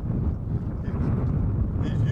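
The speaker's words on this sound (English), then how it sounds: "This is one time I want y'all to hear the wind. You hear that wind?" Strong wind roars steadily against the microphone beside a small pond with whitecaps, a constant buffeting rush with no break.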